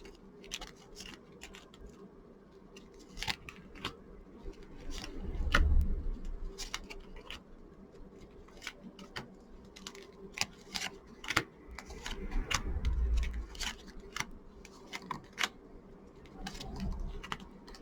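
Tarot cards laid out one by one on a table make light, crisp taps and slides, close and quiet, scattered irregularly with soft low thumps between them.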